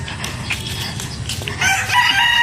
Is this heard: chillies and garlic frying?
no